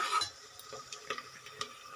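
Onions fried for basmati rice pulao, stirred in a pan with soft, quiet scraping strokes over a faint background sizzle, no talking.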